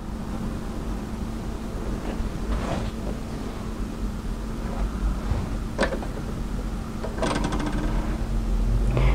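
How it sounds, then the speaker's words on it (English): An overlocker stitches contrast knit fabric pieces together along a tunic edge, a steady close mechanical whir with brief bursts of faster rattling. "we're going to overlock that together, matching those notches as we go"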